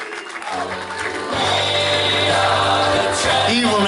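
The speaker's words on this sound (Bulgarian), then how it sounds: "готови ли сме пак за аплодисменти" An indoor audience at a welcome event in Dupnitsa breaks into steady applause that swells and holds, with music and some voices mixed in.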